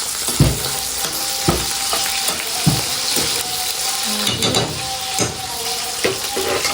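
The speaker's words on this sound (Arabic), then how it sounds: "يا جماعه انا دلوقتي شوحت الصدق ماشي زي ما انتم شايفين كده." Chicken breast sizzles and fries in a pan on the stove, with a steady hiss broken by repeated scraping stirs and clatters of the spoon against the pan, close and fairly loud.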